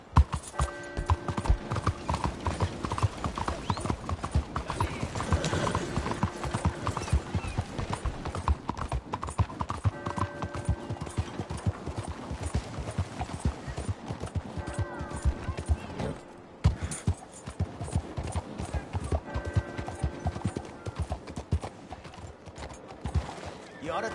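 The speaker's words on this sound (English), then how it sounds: "You ought to take care of that horse there." Horse hooves clip-clopping in the Red Dead Redemption 2 video game, a loud, steady rhythmic trot going on and on, with a brief whinny and game sounds mixed in.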